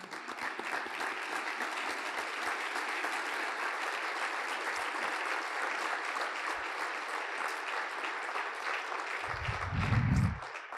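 Audience at a sports hall of fame induction ceremony applauds warmly, a sustained, even clapping from a large crowd that fills the hall and ends with a low thump.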